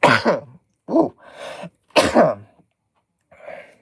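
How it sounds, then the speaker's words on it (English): A single sharp sneeze up close, followed by a short pause and a couple of softer breathy sounds. "sneeze. Sorry about that."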